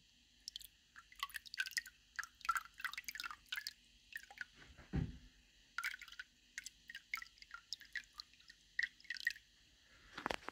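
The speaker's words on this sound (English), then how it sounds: "I will pour a little bit into the rear box to see the back, the media, and then I'll just pour it in." Liquid bacteria starter (Fritz Turbo Start 900) poured into the rear filter box of an aquarium, heard as soft irregular drips, trickles and splashes close by, with one fuller gurgling pour midway.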